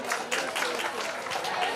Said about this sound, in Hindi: बाकी सारे भी please everybody huge round of applause for